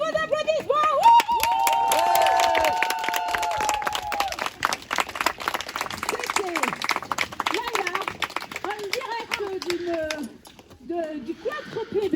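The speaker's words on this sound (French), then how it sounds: "sous vos applaudissements" Crowd applause after a bubble-blowing world record attempt, a dense clatter of clapping and cheering with voices talking over it, tapering off toward the end.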